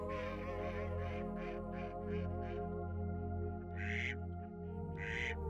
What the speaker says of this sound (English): Water birds flock here in tens of thousands.